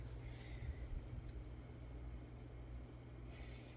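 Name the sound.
crickets chirping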